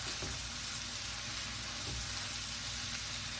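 Butter sizzling with olive oil in a hot pan, a steady close-up crackle and hiss that carries on evenly throughout, with a few soft bumps underneath.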